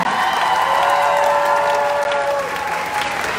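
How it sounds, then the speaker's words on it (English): A crowd at an outdoor protest rally at a city hall plaza claps loudly and steadily, with a few cheers and whoops mixed into the continuous applause. "How about a round of applause to Delia, who got up here and told her story"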